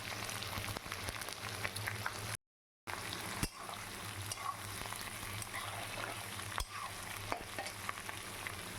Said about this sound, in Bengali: পেঁয়াজটাকে আমি ভালো করে একটু ভাজা করে নেব